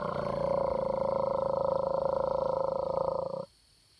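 A human voice imitates a gopher frog call, producing one long, steady, low snoring drone that holds for about three and a half seconds and then stops abruptly, close and clear outdoors.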